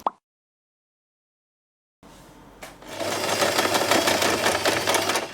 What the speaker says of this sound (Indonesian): Jahit deh bagian ini.